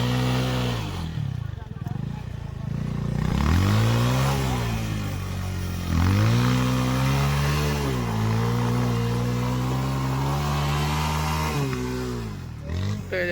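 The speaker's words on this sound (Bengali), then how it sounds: "দেখছো কিভাবে উঠাচ্ছে বাইক। উঠাতে পারবে না তো, জোরে চাক্কা পুরো রোল।" An off-road motorcycle stuck in a rut revs hard again and again, its engine note rising and falling in surges as the rear wheel spins, loud and close, with people talking over it.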